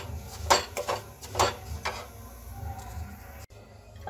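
Semolina stirred in a pan while roasting for sooji ladoo: scraping and knocking of a spoon against the pan, with a few louder strokes early on, then a quieter continuous stir.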